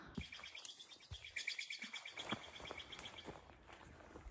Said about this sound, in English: Lots of blue jays.